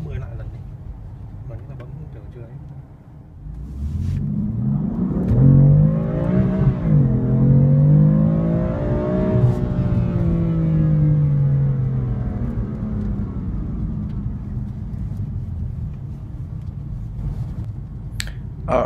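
A 2015 BMW M4 accelerates hard from 0 to 60 mph, its engine rising through the gears in a loud climbing roar with a brief dip at a shift, then easing off, with someone talking over the start and end.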